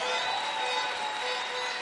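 Congregation clapping in a church during a sermon in Bunia, a steady, dense wash of applause with some crowd noise, continuous for the whole stretch.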